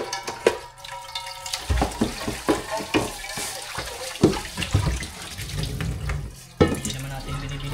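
Water runs steadily from a tap into a sink at a provincial home, splashing and clattering up close with a few knocks of dishes, and faint voices at moments.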